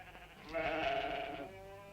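A goat bleats once outdoors, a wavering cry of about a second, moderately near and alone against faint background.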